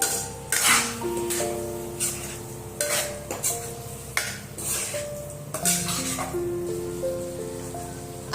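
A spoon repeatedly scrapes and clanks against a metal pot while ginger-garlic paste is stirred into chicken, loud and close in an uneven rhythm over a soft cooking hiss.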